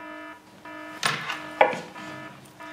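An alarm buzzer sounds in a research facility control room, a steady tonal drone with harmonics, broken by a couple of dull knocks and thuds.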